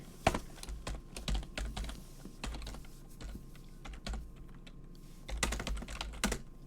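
Rapid, uneven clatter of keystrokes on a computer keyboard while probate forms are filled out, close up, with short bursts and brief pauses and no voices.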